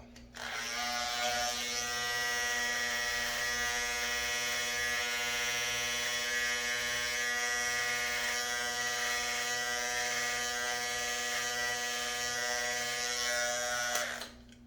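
An electric beard trimmer buzzes steadily for about fourteen seconds while clearing hair from the neckline, a close, even motor hum that starts and stops cleanly with no talking.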